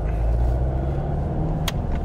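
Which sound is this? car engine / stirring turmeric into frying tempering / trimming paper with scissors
car engine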